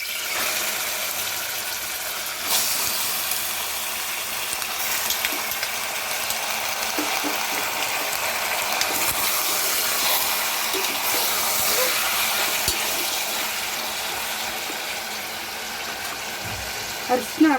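Onions fry in a pan for hotel-style mutton chops, giving a steady bright sizzle and hiss throughout, with occasional clinks and a voice talking over the cooking.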